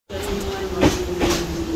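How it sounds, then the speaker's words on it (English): A metro train rumbles at a Tbilisi station platform, a steady near roar with a sustained tonal whine and a couple of rattling clacks as it passes. "Okay, so that is not our train."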